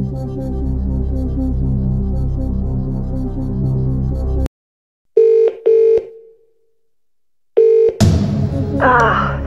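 Telephone dialing in the Who Wants to Be a Millionaire video game, a droning tone that cuts off, followed by a few short electronic dial beeps with pauses, then a ringing tone and musical sting at the end.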